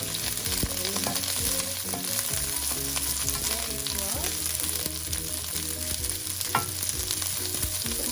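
Onions and jalapeño frying in a pan for dinner, with a loud, steady sizzle and crackle running throughout, broken by occasional stirring scrapes close by.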